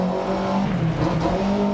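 A rally car in the video game Dirt Rally 2.0 drives hard, its engine holding a steady loud whine with slight pitch wobbles and faint gravel or tire noise underneath, no talk.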